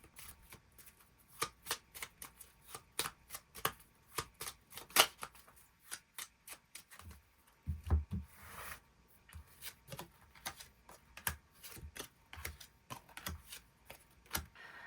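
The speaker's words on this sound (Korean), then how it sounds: "추가 카드 뽑아보도록 하겠습니다" Tarot cards being shuffled and drawn by hand, a long run of crisp riffling flicks and soft card slaps at an irregular rhythm, close and fairly quiet.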